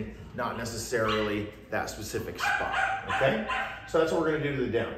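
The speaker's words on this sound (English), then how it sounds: "sorry about the barking dog" A dog in a dog training kennel barks in repeated bursts near the microphone, while a trainer keeps talking over the noise.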